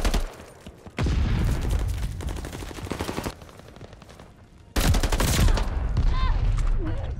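Sten gun fire in a video game, in two long rattling automatic bursts separated by a quieter gap, loud and close.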